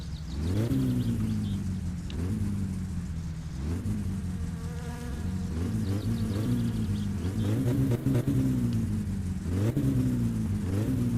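A car engine in the My Summer Car video game revs repeatedly, each throttle blip swelling in pitch and falling back, over a continuous buzzing drone at close, loud level.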